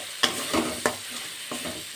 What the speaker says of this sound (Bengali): আমি এখানে অল্প জল অ্যাড করে মশলাটা সুন্দর করে কষিয়ে নেব